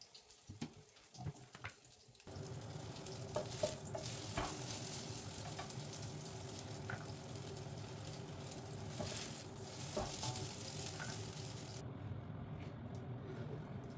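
Lumpiang shanghai meat mixture fries in a pan at home, a steady close sizzle running with no talk after a quieter opening couple of seconds.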